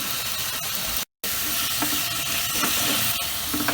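Capsicum and onion stir-fried with Hakka noodle masala for an Indo-Chinese chilli arbi, giving a steady close sizzle and hiss with a brief silent gap about a second in, no talk.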